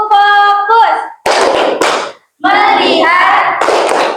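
Rhythmic clapping from a classroom clap routine, sharp hand claps in patterned bursts alternating with children chanting in unison.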